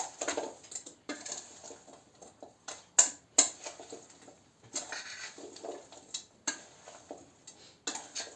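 A spoon scrapes and taps around a bowl of cherries and sugar in irregular strokes, with a couple of sharper clinks, close by and fairly quiet.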